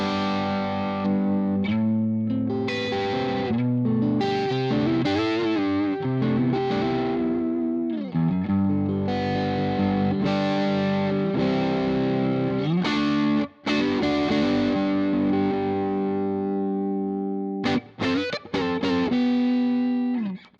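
Electric guitar played through a CKK Honey Jar overdrive pedal, a Tube Screamer TS808 clone, with tone all the way off: sustained chords and riffs with a warm, gritty crunch, loud and steady with brief pauses.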